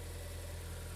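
A car engine idles smoothly while it warms up to temperature before final checks and a road test, a steady close low rumble that runs unbroken for about a second.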